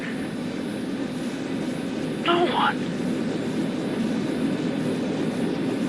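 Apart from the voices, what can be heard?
airplane engine droning in flight, radio drama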